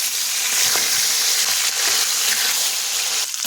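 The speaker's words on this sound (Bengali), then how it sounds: "মাছগুলো উল্টে পাল্টে লাল লাল করে ভেজে নেবে" Small rohu fingerlings fry in hot oil with a steady, dense crackling sizzle that holds on continuously and close, with no voices over it.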